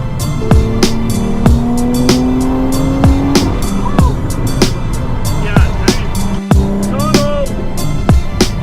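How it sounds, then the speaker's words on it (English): Engine and turbo of a 700 HP Toyota Supra running on E85, a loud close roar with rising tonal sweeps and sharp repeated pops, with people talking over it. "Man, that turbo sounds so good."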